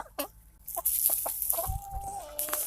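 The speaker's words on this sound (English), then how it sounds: "Day 77, Red Ranger broilers." Red Ranger broiler chickens at eleven weeks old cluck in short, scattered calls from close by, with one longer drawn-out call in the middle and no talking.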